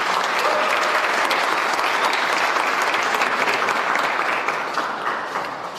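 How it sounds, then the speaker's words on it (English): Loud, dense applause from an audience at the SAICE International Bridge Building Competition 2022, steady and continuous throughout and easing off slightly near the end. "Give them a round of applause."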